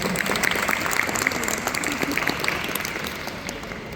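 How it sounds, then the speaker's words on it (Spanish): Audience applause for a speaker being introduced at a science festival in Paraguay, a steady wash of many hands clapping at fairly even loudness for the whole stretch, with no talk over it. "un aplauso para él"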